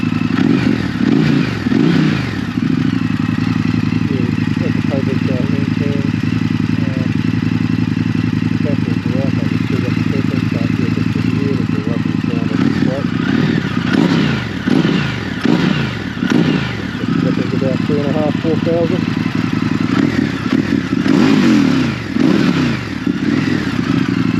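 An Indian FTR1200 motorcycle engine fires up and keeps running with a steady low rumble and a few revs, heard close up while someone talks over it intermittently.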